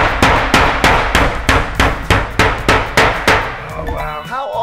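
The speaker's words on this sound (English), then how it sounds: "I love my hammer." About a dozen evenly spaced hammer blows ring out close and loud in a steady rhythm, each a sharp metallic strike, before the pounding stops and a voice briefly sounds at the end.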